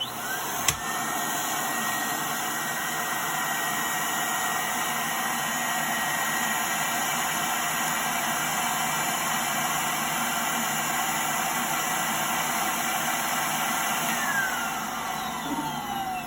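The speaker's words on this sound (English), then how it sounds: "you allow the vacuum to continue pulling so that it's pulling the material down around the teeth" A steady, loud roar of a vacuum forming machine pulling tray material down around dental teeth runs unbroken throughout, with a brief click near the start and no voices.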